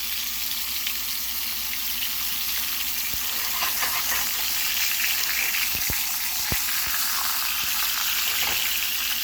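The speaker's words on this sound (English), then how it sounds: "So we're just gonna let that saute for maybe about, I would say, 2 or 3 minutes" Zucchini sautéing in olive oil with salt and pepper gives a steady, dense sizzle throughout, with a few faint clicks and taps of utensils near the pan.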